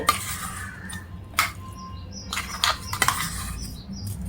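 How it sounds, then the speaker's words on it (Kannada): A spoon stirs gooseberry chutney into hot tempering in a pan, with scattered metallic clinks and scrapes, a few sharper knocks, and a faint sizzle underneath. "ನೋಡಿ, ಚಟ್ನಿ ಮಿಕ್ಸಿಯಿಂದ ಒಗ್ಗರಣೆ ಒಳಗೆ ಹಾಕ್ತಾ ಇದ್ದೀನಿ"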